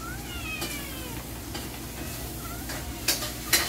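Cats meow in faint, drawn-out calls while dry cat food is mixed with a spoon in a bowl, with soft scraping and a couple of louder clinks near the end.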